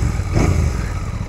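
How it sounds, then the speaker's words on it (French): A Royal Enfield Bear 650 motorcycle engine runs nearby with a steady, rumbling low burble and a slight swell in revs, and no voices over it. "Le son du moteur est très correct."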